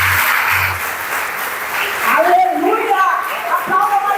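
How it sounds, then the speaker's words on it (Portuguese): A church congregation claps in a dense burst of applause that fades after a couple of seconds, and then a voice speaks over the quieter room. "Quantos podem aplaudir o Senhor?"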